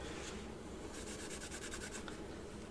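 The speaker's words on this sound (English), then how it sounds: "Then you can get in these little grooves in here to get all this rust that's inside or under here." 0000 steel wool with oil rubs rust from small grooves in metal, a close, continuous scratchy scrubbing with quicker rhythmic strokes in the middle.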